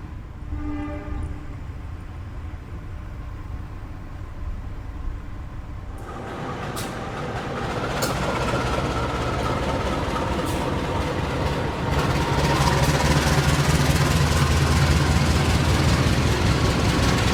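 The KA Progo passenger train, hauled by two locomotives, runs on rails at night, giving a steady interior roar that swells into louder rumbling and wheel noise after a few seconds, close and continuous, with no talking.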